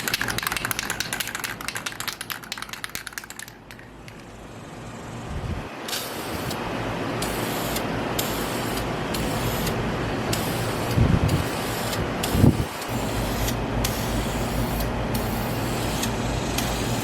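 Spray coating laid heavily onto a car during a modification session: a steady, loud hiss that builds after a few seconds of clicking and runs continuously, with a couple of brief bumps near the end.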